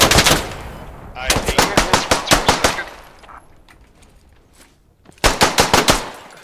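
Rapid automatic rifle fire in the military shooter game SQUAD, a loud sharp burst of about a dozen shots, then a quiet gap before another close burst.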